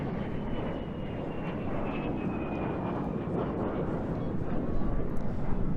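A de Havilland Vampire FB.52 jet fighter displays at Eastbourne International Airshow, its engine a broad, steady roar that builds slightly toward the end, with a faint whine, heard from a distance under a commentator's voice.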